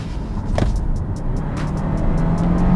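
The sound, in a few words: Hyundai Kona N-Line accelerating hard in sport mode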